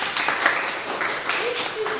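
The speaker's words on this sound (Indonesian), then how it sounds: "tepuk tangan untuk kelompok 3" A class applauds a student group in an Indonesian teacher-training classroom session, giving brief bursts of clapping over a general room murmur and some talk.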